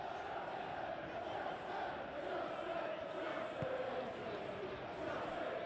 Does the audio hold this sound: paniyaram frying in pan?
no